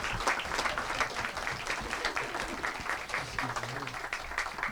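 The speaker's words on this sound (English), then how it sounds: "Let's give our past recipients a round of applause." Sustained applause from an audience at a Dr. Martin Luther King Jr. scholarship awards ceremony, welcoming past recipients; a broad wash of many hands clapping continuously, fairly close and steady throughout.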